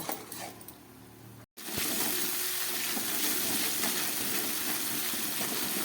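Chilli paneer with cashew paste frying in a pan: after a brief gap, a loud, continuous close sizzle runs steadily to the end, with no talking.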